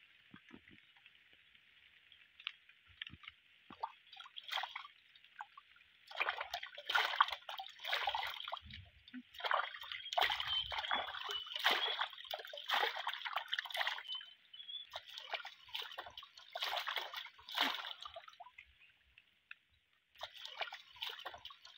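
Quiet, close splashing and dripping of warm water in irregular bursts as hands scoop and slosh it while washing a face outdoors in an African village, with pauses between.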